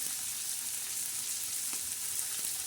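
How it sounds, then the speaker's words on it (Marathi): Chopped onion sautéing in a hot pan on a griddle with green chili, garlic and salt thecha mixed in, producing a dense, even sizzle that stays loud and unbroken throughout with no voices. "आता कांदा परतताना त्याच्यावर आपण जो ठेचा केलेला हिरव्या मिरचीचा तो टाकून द्यायचा"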